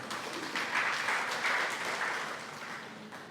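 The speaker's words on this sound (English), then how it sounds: "Please give him a round of applause." Round of applause from the audience at a pageant introduction night, a continuous bed of clapping that swells slightly mid-way, with faint voices in the room.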